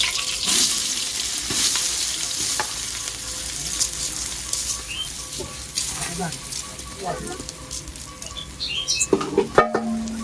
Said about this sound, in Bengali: সবকিছু তেলের সাথে ভালো করে ভেজে নেব